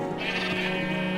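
A Minecraft sheep lets out a single drawn-out bleat, loud and close, a nasal wavering cry lasting about a second with no speech over it.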